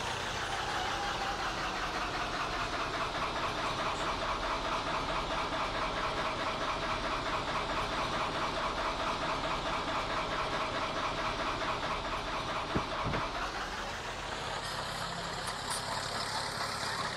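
A Landini crawler tractor engine in Farming Simulator 22 runs at a steady, rough, knocking drone for most of the stretch, then its pitch shifts and it eases toward idle near the end. No talking.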